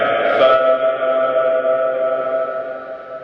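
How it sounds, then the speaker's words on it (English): A voice processed through compressor and reverb in the AUM app smears into a sustained, echoing drone that hangs steadily without clear words. "very quickly my voice becomes completely unrecognizable"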